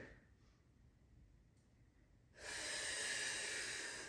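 A strong, breathy exhale during a gentle pilates back workout starts after quiet moments, rushing out loud and close for nearly two seconds.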